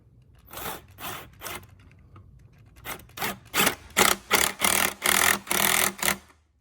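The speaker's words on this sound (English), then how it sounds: "this again takes a 7mm socket to tighten it down" A 7mm socket tightens a hose clamp during an intake install on a Fiat 124 Spider Abarth, giving repeated rasping ratchet strokes that start sparse and grow louder and faster toward the end, close up with no talk.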